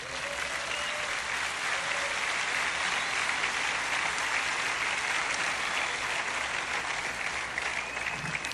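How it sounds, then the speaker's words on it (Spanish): A church conference congregation gives loud, continuous applause, a thick, unbroken roar of clapping from many people that holds level for over eight seconds. "el verdadero discípulo de Jesús le da un fuerte aplauso al Señor"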